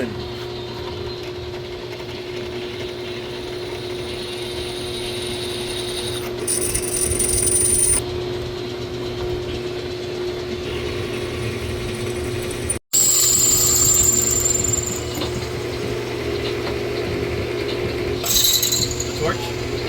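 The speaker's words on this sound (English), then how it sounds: "Let's do some drilling." A power drill drills into metal while forging a knife, running steadily for a long stretch, a continuous mechanical whine with short bursts of higher grinding, close to the microphone.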